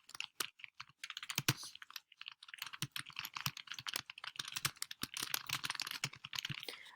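Typing on a computer keyboard: a steady run of quick, close plastic key clicks and taps with small pauses, quiet and alone without any voices.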